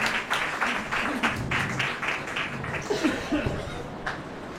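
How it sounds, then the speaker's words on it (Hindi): A small gathering celebrating a birthday claps in welcome, with irregular bursts of applause, some chuckling and laughter, and a voice speaking briefly over it. "जोरदार तालियों से स्वागत करेंगे इनका।"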